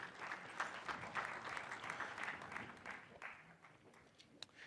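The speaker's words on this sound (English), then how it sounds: "Round of applause one more time, please." An audience applauds steadily at a news conference, a dense wash of clapping heard at a distance without pauses.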